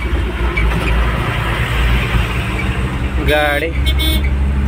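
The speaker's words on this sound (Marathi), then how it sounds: "traffic jam" Road traffic in a jam during a Ganesh festival procession, with a steady engine rumble and the passing drone of heavy vehicles close by, and someone talking over it.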